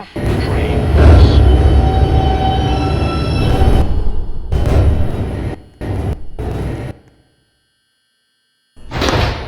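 A New York subway 2 train bound for Flatbush Avenue rumbles loudly at a station, wheels grinding and squealing, then doors chime and thud shut before quiet and the train moves off.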